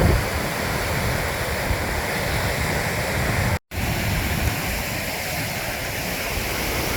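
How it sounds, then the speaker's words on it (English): A waterfall in the Ogwen Valley roars as a dense, constant rush of falling water, loud and close, with one momentary dropout midway. "You've got various waterfalls coming down the valley."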